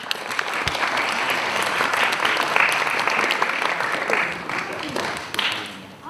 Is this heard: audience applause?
yes